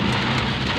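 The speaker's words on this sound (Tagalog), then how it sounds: "yan, malakas ang ulan." Heavy rain pours down in Manila during a drive, a dense, steady roar of downpour filling the whole short moment with no voices.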